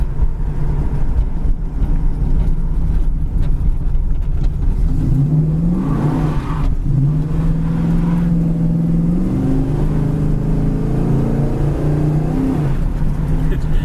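A 1970 Dodge Challenger with a 318 V8 drives along, its engine note steady and loud throughout and rising and settling as it revs and shifts, with no talk over it.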